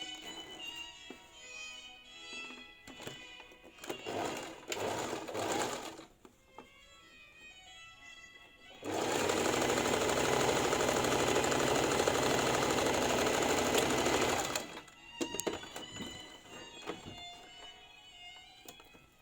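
A domestic sewing machine runs a continuous, loud, even whir for about six seconds, stitching a zippered cushion cover. Shorter mechanical bursts and handling noises come before and after it.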